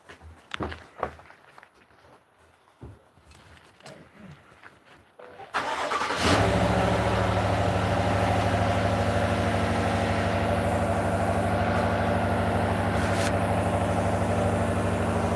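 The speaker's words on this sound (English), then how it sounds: "Can you start the pickup truck?" A pickup truck engine cranks and catches after some quieter handling noise and footsteps, then settles into a loud, steady, close idle that runs on to the end.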